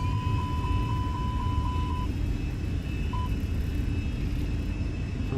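Airbus A320 engines in a flight simulator during a go-around, a steady loud broadband roar with a continuous low rumble and a faint high whine, alone with no talk.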